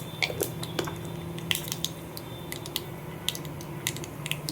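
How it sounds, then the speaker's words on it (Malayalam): Mustard seeds popping in a small amount of hot oil in a pan, heard as rapid irregular close crackles and ticks over a steady low hum. "കടുക് പൊട്ടി തുടങ്ങി."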